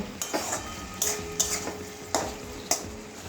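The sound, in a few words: stir-frying okra with coriander leaves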